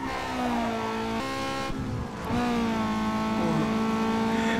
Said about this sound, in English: Oh, I can hear those engines behind me.